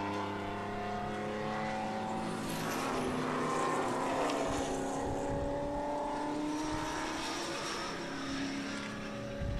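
Two Cobra race cars run nose to tail at the 2014 O'Reilly Auto Parts Grand Prix, a continuous engine roar with shifting whine that swells and fades as they pass, heard from a distance and fairly faint.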